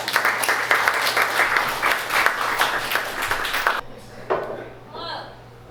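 Audience applause for a poet at a book release party in Toledo, dense clapping for about four seconds that stops abruptly, followed by a brief voice and faint room sounds.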